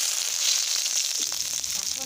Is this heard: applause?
no